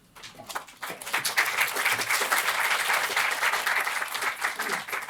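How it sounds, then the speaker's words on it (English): An audience breaks into sustained applause at a talk on empire, slavery and reparations, swelling after a quiet start and holding steady throughout. "always slightly dangerous having clapping before you've heard."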